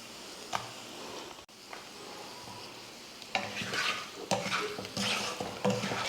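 Boiled eggs being stirred into egg curry in a pan, with a soft steady sizzle and intermittent scraping, clacking spoon strokes that grow busier partway through, close and without talk.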